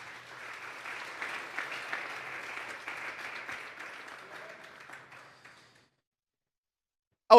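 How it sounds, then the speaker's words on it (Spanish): A church congregation at a Sunday service claps for the Lord, dense even applause filling the room for several seconds, then thinning and fading into silence before a brief sharp noise at the very end. "Denle un fuerte aplauso pues al Señor esta noche"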